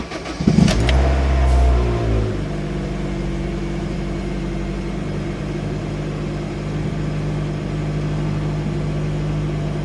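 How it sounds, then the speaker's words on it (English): A Honda Fit's engine cranks and catches with a brief loud start burst, then settles into a steady, close idle hum that runs on alone after a new alternator was fitted. "we're just gonna start the car"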